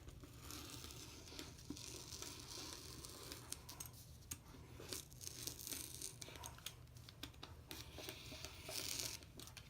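Scissors cut fabric pattern pieces for sewing briefs, producing faint, close crinkling and snipping with soft paper and cloth rustles in a continuous, uneven stream.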